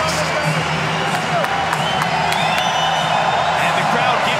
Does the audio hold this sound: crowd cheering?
yes